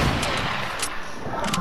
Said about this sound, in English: Shoot her with a sniper.